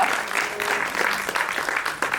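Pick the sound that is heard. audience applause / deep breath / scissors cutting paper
audience applause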